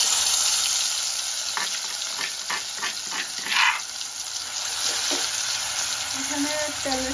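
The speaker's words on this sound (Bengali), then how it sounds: "এখানে তেলের সঙ্গে মরিচ, পেঁয়াজ, আদা, রসুন, মরিচের গুঁড়া, গরম মশলা সবগুলো একসাথে মিক্স করে দিয়ে দিচ্ছে।" Oil sizzles steadily in a pan with chili, onion, ginger, garlic, chili powder and garam masala, broad frying hiss throughout with scattered stirring clinks and brief bursts near the middle.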